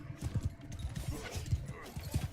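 Horse hooves clip-clopping in the Mount & Blade II: Bannerlord video game, a steady rhythmic run of close, thudding steps over a low battle din.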